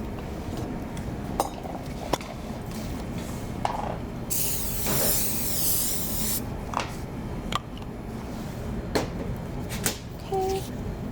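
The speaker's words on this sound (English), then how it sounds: "First, we have to spray the pan." A can of cooking spray hissing onto a baking sheet for cookie batter, one sustained spray burst of about two seconds amid light clinks and handling noises, with people talking around it.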